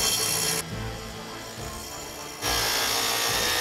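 A saw cutting into the thick steel back of a high-security safe, a steady grinding rasp that drops in intensity mid-cut and returns loud, close and continuous.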